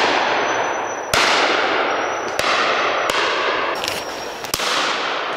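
Shotgun blasts during a pheasant shoot outdoors, four or five loud sharp reports at irregular intervals about a second apart, each with a short crack and decay, close by.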